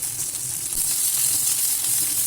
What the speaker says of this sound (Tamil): இந்த பச்சை மிளகாயை இந்த எண்ணெயில் போட்டு நல்லா வதக்கி விட்ருங்க